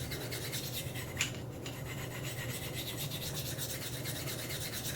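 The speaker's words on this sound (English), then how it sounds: "I hold my angle consistently and I just work my way up and down the stone" A knife blade rasps steadily back and forth across a fine whetstone in freehand sharpening, a close, continuous gritty scrape held at a consistent angle, with no talking.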